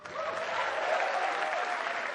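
A comedy show crowd claps briefly, a short, steady burst of applause from a sizable audience with no voices over it.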